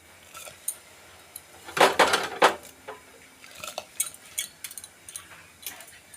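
A spoon stirs Gobindobhog rice through boiling milk in a pot for payesh, with a cluster of loud metallic scrapes and clinks early on, then lighter scattered taps against the pot.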